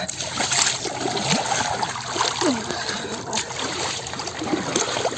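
Water splashing as people bathe and dip in the Ganges during a Maghi Purnima holy dip at the Maha Kumbh, with continuous nearby splashes and trickling under crowd noise and faint voices.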